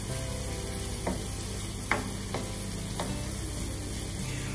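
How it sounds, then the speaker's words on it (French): Spices including paprika and saffron get stirred in a pan for stuffed squid with rice, a constant loud sizzle broken by a few sharp spoon scrapes and knocks, up close, no speech. "On mélange tout et on a tout bien mélangé"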